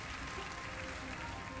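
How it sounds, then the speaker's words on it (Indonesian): Audience applause, a steady wash of clapping that holds at an even level throughout and sits at moderate loudness in a show setting. "jangan beri tepuk tangan dulu ya."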